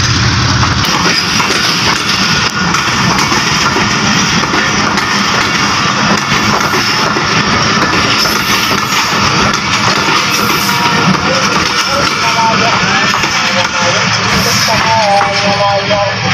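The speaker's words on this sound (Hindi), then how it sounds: "डिपार्चर कर चुकी है सेवन अप तेजगाम एक्सप्रेस" The 7 Up Tezgam Express passenger train departs Sahiwal station, rumbling and clattering steadily past at close range, a loud continuous roar of wheels and engine with faint voices beneath.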